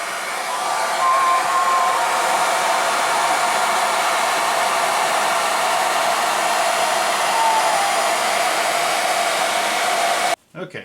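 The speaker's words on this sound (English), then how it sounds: "hit this with a hairdryer for a couple seconds just to dry this water off of here" Hair dryer blowing water off a restored Food Fight arcade control panel: a loud, steady close whoosh runs for about ten seconds, then shuts off and sputters briefly at the end.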